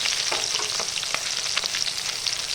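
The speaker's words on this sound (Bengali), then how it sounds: "আমি কিছুটা এখানে ভাজা বসিয়ে দিয়েছি।" Bata fish frying in oil in a pan at home, a steady close sizzle with crackling pops throughout and no talking.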